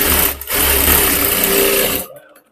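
A sewing machine stitches a strip onto a blouse, a loud, close, steady motor whir with a brief pause early on before it runs again and stops abruptly.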